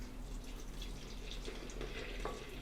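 Water poured into a mixing bowl for bread or pizza dough, about 150 millilitres, a soft steady trickle and splash running close by for a few seconds with no talk.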